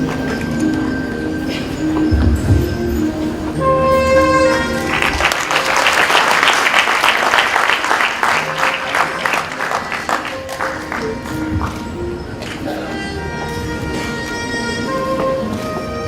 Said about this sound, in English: So please, a great round of applause for him.